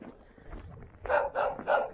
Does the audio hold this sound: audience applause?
no